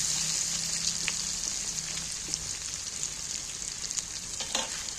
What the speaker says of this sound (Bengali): একটু হলুদ দিয়ে এইবার আমি তেলের মধ্যে ভালো করে নেড়ে চেড়ে আলুগুলোকে একবার লাল লাল করে